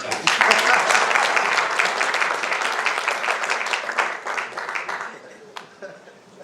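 A conference audience breaks into loud, dense applause that holds steady, then gradually thins out and fades toward the end.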